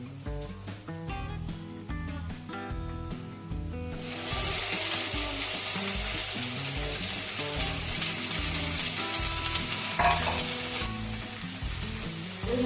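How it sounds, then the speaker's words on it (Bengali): Chicken pieces drop into onions frying in hot oil for a restaurant-style chicken curry masala. A loud, steady sizzle surges up and holds, with intermittent stirring scrapes running through it and no voices. "তারপরে আমি চিকেনটা দেবো।"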